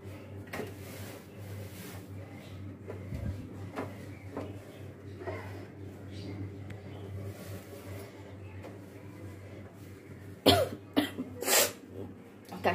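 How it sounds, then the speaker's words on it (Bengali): A person with a cold coughs in a home kitchen: a steady low hum and faint household clatter, then a cluster of several sharp, close coughs and throat-clearing bursts near the end. "কাশি হচ্ছে, ঠান্ডা লাগছে তো, একটু পর পরে কাশি আসতেছে"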